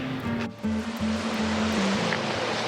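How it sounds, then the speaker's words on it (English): Water wells up in a semicircular pool fed by an ancient Roman spring in Nîmes, France: a loud, steady rushing and bubbling that fills the whole stretch, with a low tonal drone underneath. "you can see this semicircle of bubbling water that's coming up"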